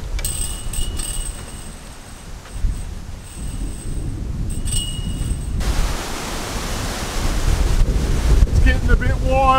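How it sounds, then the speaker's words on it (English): Strong wind roaring and buffeting the microphone, a constant loud rush of noise that swells louder toward the end. "So windy."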